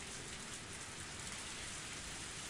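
Steady, dense rain pours without pause in the video game Higurashi When They Cry, a constant close hiss with no breaks.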